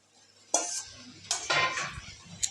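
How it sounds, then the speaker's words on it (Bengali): Boiled pasta tossed with vegetables in a pan, a few clattering metal spoon strikes and scrapes in quick succession, close and fairly loud, with no speech. "পাস্তা দিয়ে নেড়ে দিয়েছি"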